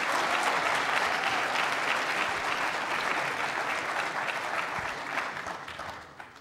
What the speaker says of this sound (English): Round of applause for Capital College,